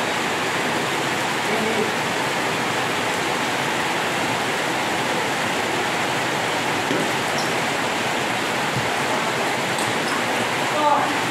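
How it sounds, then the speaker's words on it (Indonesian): Steady rain falls without a break, a dense, even hiss of noise that holds at the same level the whole time. "Hujan, hujan."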